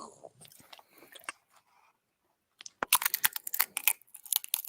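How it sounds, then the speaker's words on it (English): Someone slowly chews a crunchy snack, with sparse soft bites at first, a short pause, then a run of sharp, close crunches at an unhurried pace in a quiet room. "eat it slow to hear the crunch go slowly"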